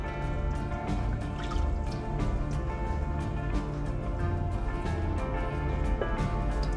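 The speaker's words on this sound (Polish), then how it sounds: "Dodaję teraz 100 gramów śmietany 30. Śmietana wlewam." 30% cream poured into a Monsieur Cuisine Connect food processor holding flour and butter, a steady liquid trickle and drip over the machine's continuous hum, with no talk.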